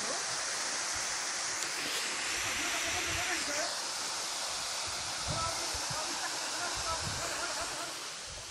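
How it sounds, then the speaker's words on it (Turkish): Waterfall about 35 metres high flowing, a broad continuous rushing hiss that holds steady throughout, with faint voices mixed in beneath the roar. "şelale akıyor"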